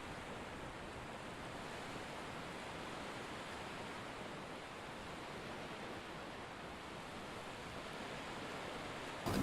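Strong wind blows in a constant, dense roar mixed with crashing ocean surf at a kitesurfing spot in Cape Town, with no letup and no voices.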